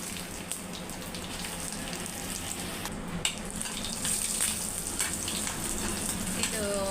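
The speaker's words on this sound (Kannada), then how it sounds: "ಮೊಸರು ಮತ್ತು ಮೊಸರುಗಾಯಿ ಫ್ರೈ ಮಾಡ್ಬೇಕು ಅಂದ್ಕೊಂಡೀನಿ" Curd-soaked chillies (mosaru menasinakai) fry in a little oil in a home kitchen, giving a steady, fairly loud crackling sizzle that runs throughout with faint stirring scrapes.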